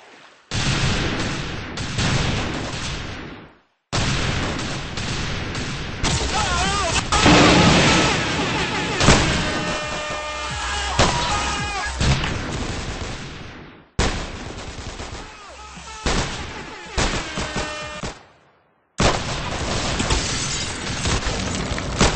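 Rapid video game gunfire, dense and loud, with bursts of shots and automatic fire running almost continuously over a background of game sound. Brief gaps break it up, and players talk over it.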